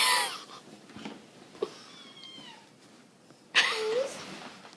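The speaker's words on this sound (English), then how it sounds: "I'm a little kitty cat." A kitten meows with high, breathy, wavering cries, a strong burst at the start and another near the end, close to the listener, with quieter rustling in between.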